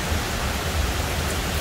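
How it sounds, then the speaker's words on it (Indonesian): Very heavy rain pours down and floods an upper terrace, a dense, loud, steady hiss with no break and no voices. "Sampai kebanjiran karena terlalu gedenya hujan."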